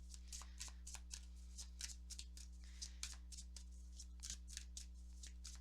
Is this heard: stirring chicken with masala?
no